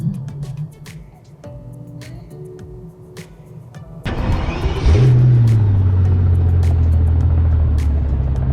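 A Mercedes-Benz CL600 engine idles quietly, then roars up with a loud rev and settles into a steady, deep driving rumble.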